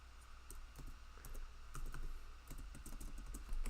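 Quiet, close typing on a computer keyboard, irregular clusters of soft key clicks with no voices.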